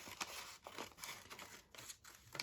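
Scissors snip through antique book paper for a page pocket craft, several short close cuts in an uneven rhythm, crisp and quiet with no talk.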